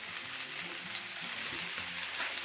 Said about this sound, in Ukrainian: І смажуємо рибку з кожного боку по 5 хвилин.